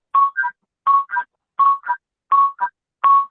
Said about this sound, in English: would you mind muting that phone?